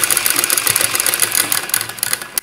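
A sewing machine stitching a dhoti-style pyjama in cross-piece cloth, running in a steady fast whirring rattle with a brief stop at the end, close and alone.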